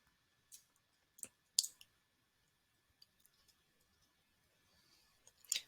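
Computer keyboard keys and a mouse click sparsely in a quiet room while a design app is used, a few faint, separate taps spread across the stretch.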